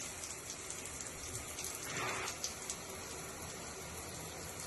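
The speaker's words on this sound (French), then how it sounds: "je vais ouvrir le robinet, de sorte à ce que ça se nettoie seul" Water runs from an opened tap into a bath in a steady soft splashing patter, quiet and continuous, with one slightly louder gush midway.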